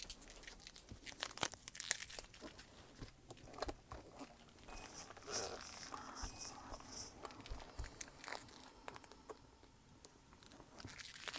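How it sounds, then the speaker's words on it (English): A sticker is peeled away in short crinkly tearing and crackling bursts, faint and close, scattered irregularly with small rustles between them. "that's how I remove my sticker"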